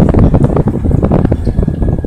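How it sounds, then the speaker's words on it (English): Steady gusty wind buffets the microphone in Midtown Atlanta on an overcast day, a broad low rumble with fluctuating intensity throughout, no voices. "It's really windy and overcast here in Atlanta today"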